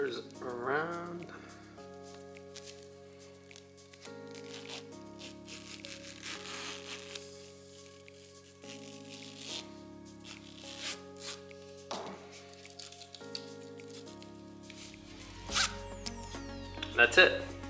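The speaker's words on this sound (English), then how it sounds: "Zippers around." Zipper being drawn around a washable fabric HVAC air filter cover with the frame inside, a series of short scratchy zipping strokes, close and fairly quiet, alongside faint handling noises and a steady background hum.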